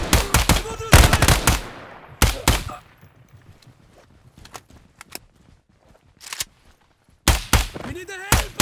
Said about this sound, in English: They're shooting at me! We need to pick up! I see enemy! I'm under fire!